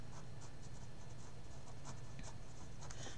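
A pen scratches across paper while a weaving draft is filled in, quiet but steady, with short strokes and small taps for about three seconds and no talk.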